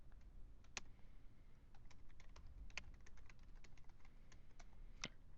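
Keys clatter on a computer keyboard as a spreadsheet heading is entered, a quick irregular run of faint, close taps with no voices.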